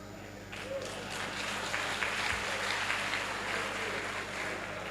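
An audience claps steadily at a gathering at the Nigerian Armed Forces Resettlement Centre in Oshodi, a dense, sustained patter of many hands from start to finish, with a voice faintly audible underneath.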